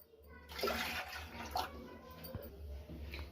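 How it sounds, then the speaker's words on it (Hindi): Water poured into a pan to make tulsi herbal tea, a continuous splashing gush filling the pan at close range, steady for a few seconds. "यहाँ 1 कप बनाने के लिए हम इसमें पानी डाल रहे हैं"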